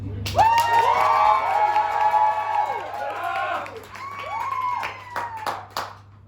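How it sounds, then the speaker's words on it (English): A circus crowd cheers and shouts in a loud, sustained roar, with whoops rising and falling and bursts of clapping toward the end. "He would enter the ring to raucous applause."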